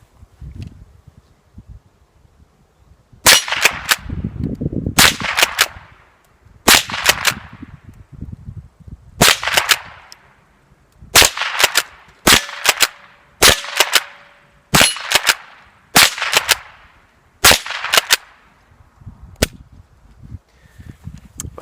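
A Rossi Model 62 .22 pump-action rifle fires Remington Thunderbolt rounds at steel plates, about fifteen sharp cracks spaced a second or so apart, loud and close, some followed by faint metallic pings.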